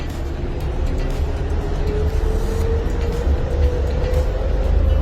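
A train with automatic window blinds rumbles through a residential area in a steady, loud low drone, with a faint rising whine and scattered clicks from the wheels on the track.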